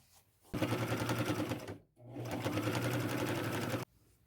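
A sewing machine stitches a thrifted dress in two steady runs separated by a short pause, its rapid mechanical hum close and loud, with quiet moments before and after.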